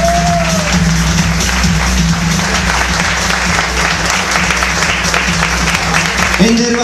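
A concert audience claps loudly and continuously for the musicians on stage at a closing show, with a voice speaking over the sustained applause and a held tone sounding in the background.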